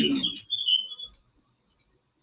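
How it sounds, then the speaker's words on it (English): Birds tweet outside with a few thin, high chirps, first trailing off after a brief low rumble, then a faint pair of short chirps near the end amid near silence. "Birds are tweeting outside."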